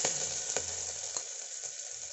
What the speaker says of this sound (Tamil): வெங்காயம் போட்டு ஃப்ரை பண்ணிக்கோங்க.